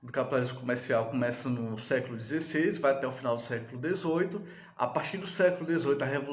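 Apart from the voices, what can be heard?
No everyday noises stand out.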